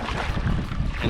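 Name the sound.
strong wind while kayaking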